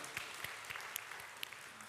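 A church congregation applauds during a Sunday service, a steady, soft wash of many hands clapping at a distance.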